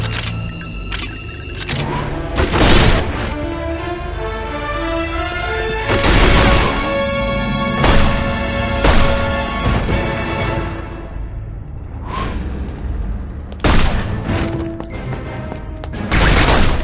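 Gunfire at a train station in the PlayStation 2 game 007 From Russia With Love, sharp loud shots and impacts striking at irregular intervals amid tonal music and clanking effects.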